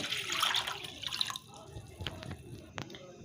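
Water poured into a bowl while making ragi mithai, a finger millet and jaggery sweet, giving a close pouring and splashing sound for about a second and a half, followed by a few faint drips and light kitchen clatter.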